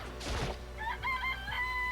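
A chicken in the Danganronpa video game gives a single loud crow-like squawk, followed by a string of shorter clucking calls over a steady low background hum, with no voices present.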